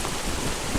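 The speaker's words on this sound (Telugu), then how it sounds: "వర్షం పడుతుంది చూడండి ఒకసారి." Rain falling from fog onto trees on a hilltop at Nandi Hills, a dense continuous patter and hiss of drops that is brief and steady.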